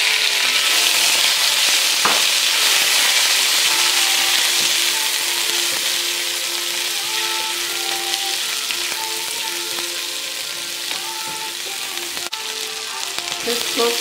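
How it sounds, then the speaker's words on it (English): Chopped tomato frying in a pan for a Tuscan butter shrimp pasta, a loud, continuous close-up sizzle with occasional light stirring clicks and no voices. "just cook the tomato for like 2 to 3 minutes"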